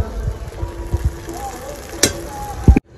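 Chopped green chillies, tomato and spice paste frying in a pan for paneer butter masala, a low steady sizzle with a few louder clinks and stirring scrapes, alone without talk, ending in a sudden cutoff.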